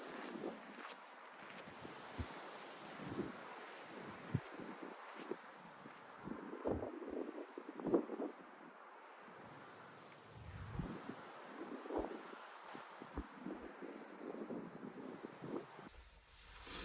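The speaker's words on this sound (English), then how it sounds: "The wind is violently assaulting me" Strong wind gusts buffet the microphone on a Texas hike, low rumbling blasts surging and fading irregularly across about seventeen seconds, with no talking.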